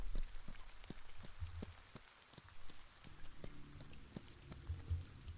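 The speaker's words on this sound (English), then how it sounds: "Especially since we're out riding in the rain." Light rain patters steadily during a horse ride, with soft hoof clops and scattered drops against a quiet, faint background and no talk.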